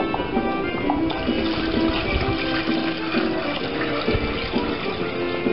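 Water pours steadily into a large 6-gallon pot being filled with a gallon of water for Cajun boudin, a continuous dense splashing rush that stays constant and fairly loud throughout with no talk.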